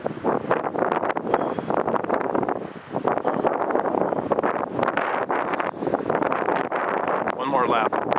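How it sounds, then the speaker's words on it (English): Gusty wind blowing on a cold, rainy day, a steady loud rush buffeting the microphone throughout, dipping briefly partway through before returning at full strength. "It's cold, it's windy, and it's raining a little bit"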